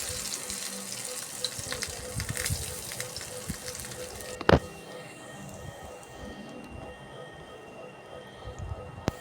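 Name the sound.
prawn fritters frying in oil in a frying pan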